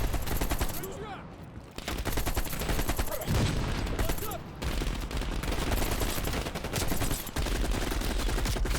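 Dense, continuous gunfire from a firefight in the video game Call of Duty Black Ops Cold War, with rapid bursts and sharp shots filling the clip at close range and loud throughout.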